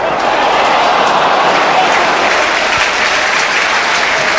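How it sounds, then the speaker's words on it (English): Football crowd at a 1999 Intertoto Cup match between West Ham and FC Metz applauding, a dense, steady wash of clapping filling the stadium, with a commentator's voice faintly underneath. "The idea was applauded by the fans."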